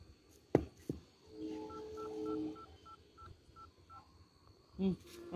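Telephone keypad dialing tones, a string of short evenly spaced beeps at moderate level, with a few knocks and brief talk around them in a Tamil household comedy sketch.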